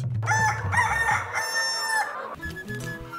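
A rooster crows loudly and close by in a long drawn-out call, followed by a few low clucks from chickens.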